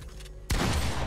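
Gunfire in a Nintendo video game match sounds as a sudden loud burst of shots partway through, after a quieter stretch, continuing as a dense rattling volley to the end.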